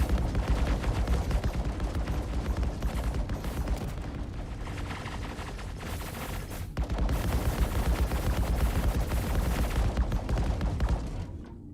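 Sustained Star Citizen gunfire during a supply run on ArcCorp, with dense overlapping bursts of automatic shots, loud and continuous for the whole stretch, with a brief dip midway and no talk over it.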